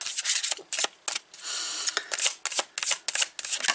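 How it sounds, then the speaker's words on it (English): Oracle cards being shuffled by hand in short riffling, rubbing bursts with brief pauses between them, close and fairly loud, no voices. "Oh yeah, remember these don't shuffle very well. Okay, so let's just shuffle them this way."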